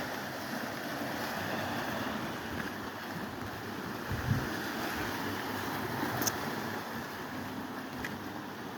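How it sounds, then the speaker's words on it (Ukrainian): Steady, gentle wash of calm sea waves at Tropea with soft wind noise, a continuous even rush without distinct breaking crashes. "Добре, спокійне сьогодні море, Наталька."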